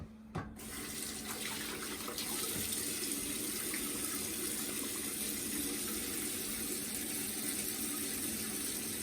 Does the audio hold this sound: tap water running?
yes